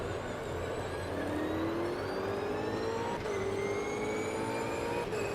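An Ultima GTR race car engine revs in the Automobilista sim racing game, pitch climbing steadily through the gears with quick shifts, loud and continuous with no talk.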